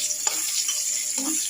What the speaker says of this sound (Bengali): শুকনো লঙ্কা তেজপাতা দিলাম। এই ফোড়নটা একটু ভাজা হবে।